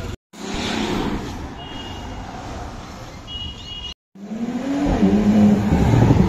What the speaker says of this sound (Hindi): देखो भाई सुना एग्जॉस्ट साउंड इसका।